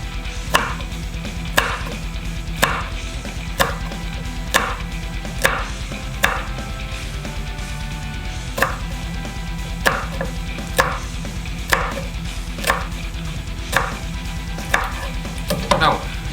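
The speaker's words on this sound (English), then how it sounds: "Next up, we cut the chili into small pieces as well." A knife chopping chili into small pieces on a cutting board, steady evenly spaced thuds about one per second, close and clear, with a quicker burst of cuts at the end.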